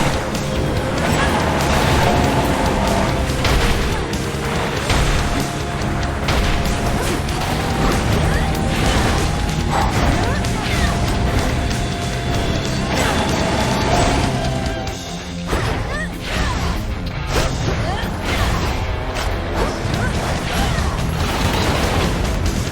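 Fire-breathing boss fight in the Hades II underworld, with loud continuous crashing, impacts and roaring game effects layered densely throughout, steady in level with a brief dip midway.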